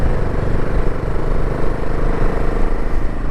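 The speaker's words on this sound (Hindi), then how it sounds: "ऑफ रोडिंग कर करके उसकी बाइक की आवाज़ भी चेंज हो गई है" Motorcycle ridden off-road on a rough mountain route, its engine a steady, close, loud rumbling drone with a slightly uneven, rattly texture, no talking.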